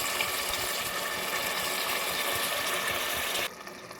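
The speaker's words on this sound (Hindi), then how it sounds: "मैंने इसमें पानी शामिल करके इसे मिक्स कर लिया फिर से एक बार" Water poured into aloo keema cooking in a pan, a steady close rushing pour that stops abruptly near the end, leaving a quieter simmer.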